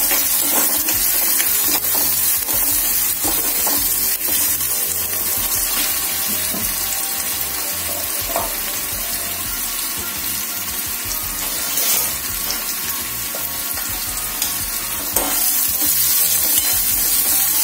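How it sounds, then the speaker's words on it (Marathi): Chopped onion and tomato cooking in a pan for a mixed-lentil dal, a loud, continuous hissing sizzle with occasional faint stirring scrapes, close up and without speech. "तर आता हे कांदा आणि टोमॅटो छान असं आपण शिजवून घेऊया"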